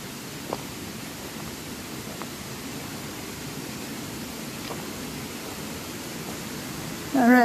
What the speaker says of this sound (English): that's West Hill Brook down there. We can hear it.